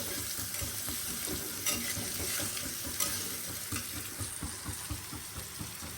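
Chopped onions fry in a hot pan under a constant close sizzle, with rhythmic scraping strokes from a spatula stirring throughout.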